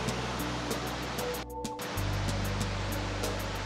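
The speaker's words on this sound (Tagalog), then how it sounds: "meron dyang cave na merong lumalabas sa tubig. So meron siyang pa-falls na din." Water pouring out of a cave at Wawa Dam makes a steady, loud rushing roar that fills the whole clip. There is a brief dip in the middle, and a faint low hum sits underneath.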